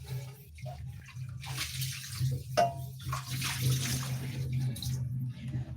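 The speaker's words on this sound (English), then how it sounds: "we rinse these two." Omena sardines are rinsed in water, giving soft sloshing, splashing and running-water sounds close by, fairly quiet, over a low steady background hum.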